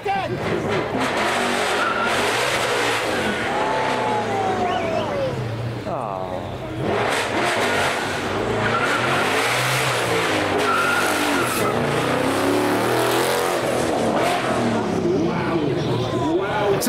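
American cars skid around a track with repeated squealing tires and revving engines, loud and continuous, with people talking and shouting over the noise throughout.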